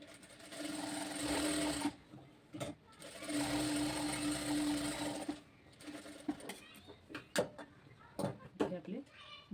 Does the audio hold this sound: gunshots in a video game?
no